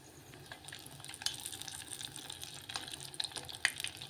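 Small spices and asafoetida crackle and sizzle in hot oil for tempering, with light scattered pops and a soft hiss, fairly quiet and without voices.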